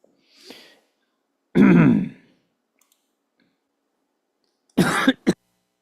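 A single harsh cough, then silence, followed by a pair of short coughs or throat clears; close and loud, with no talking.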